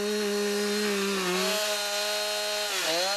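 Close and loud, a chainsaw runs continuously through a heavy log in a log-house workshop, its engine note dropping slightly and then dipping sharply as the blade bites in near the end.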